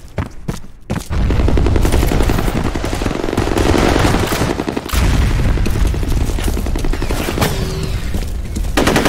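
Intense gunfire rattles continuously in a F.E.A.R. Combat capture-the-flag match, rapid automatic bursts piling up into a loud barrage with heavy booming blasts, including a grenade explosion, after a few sharp opening shots.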